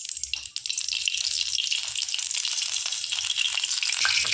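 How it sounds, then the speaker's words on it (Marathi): Oil poured into a hot kadhai sizzles loudly and continuously at close range for mutton rassa, a bright steady hiss with a brief dip at the start. "कढई गरम झाली की तेल टाकून घेऊया"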